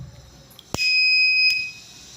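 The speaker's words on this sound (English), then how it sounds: "Alarm is buzzing." A flame-sensor buzzer on an Arduino fire alarm sounds a steady, loud, high-pitched tone for about a second after a sharp click, then cuts off into quiet.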